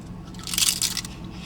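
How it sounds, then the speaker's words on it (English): A crisp crunch from biting the flaky, buttery top layer of a croissant-style pastry, a short burst of crackling close to the mic between quieter moments. "I'm gonna try eating like this really crispy layer that's up on the top of the Morty P."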